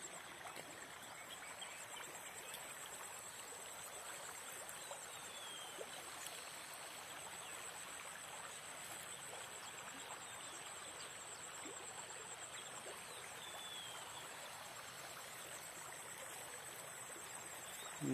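River water flowing near farmland close to Tuljapur, a soft, steady rushing wash that runs unbroken for the whole stretch and is heard faintly.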